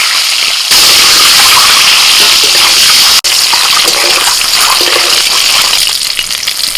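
Eggs dropped into hot oil seasoned with salt and turmeric in a wok erupt into loud, dense sizzling and crackling that continues steadily for several seconds, close up and without talk.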